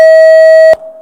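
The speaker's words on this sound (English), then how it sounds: "Let's do a buzzer check." A single loud electronic tone from a junior high school quiz contestant's buzzer sounds during a buzzer check, a pure steady beep held about three quarters of a second and stopping sharply, with faint tone lingering afterward.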